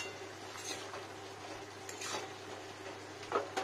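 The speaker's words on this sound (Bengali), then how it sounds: "দেখুন এবার খুন্তি দিয়ে পুরো মশলাটা ভালো করে মিশিয়ে দিই" A metal spatula stirs cabbage and spices in a pan for a vegetarian cabbage dish, with soft scraping strokes and a light sizzle, ending in a couple of sharper metallic clinks against the pan.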